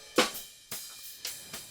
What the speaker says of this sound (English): That's hiss. That's only the very top end of everything.